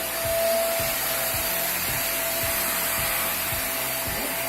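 A Puppyoo WP526C cordless vacuum cleaner runs steadily with a loud whooshing motor hum, with rhythmic soft bumps as it is pushed back and forth.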